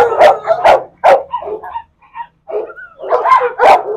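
Pitbull dogs barking close and loud in short bursts of two or three barks, with yips and whimpering sounds between the volleys.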